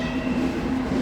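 Horn of a Citroën DS blaring at a street demonstration, a steady sustained tone held for about a second, loud and close, with crowd noise underneath.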